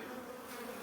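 Honeybees buzz steadily on a frame lifted from a newly installed nuc hive, a dense, continuous close-up hum with no pauses and no voices.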